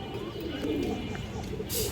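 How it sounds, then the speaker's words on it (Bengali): Old-bloodline pigeons coo softly nearby in a short, low burble, with a brief rustling hiss at the end. "এটা একবারে পুরান ব্লাডের কবুতর"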